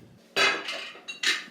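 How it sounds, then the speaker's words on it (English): Spoon scraping the bottom of a pot of keto steak soup, three quick metallic scrapes and clinks up close, no talking. "Scrape the bottom, get the little bit of herbs that are left in there that you cooked with."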